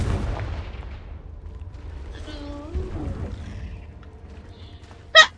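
Confringo blast spell in the video game Hogwarts Legacy, a booming low burst at the start fading out, followed by tonal creature-like calls in the middle and a sharp crack near the end.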